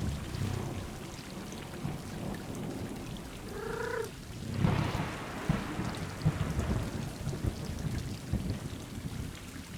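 Steady rain pours throughout a stormy scene in the video game Stray, with a low rumble of thunder swelling near the middle and a few brief chirping calls just before it, the downpour continuing alone to the end.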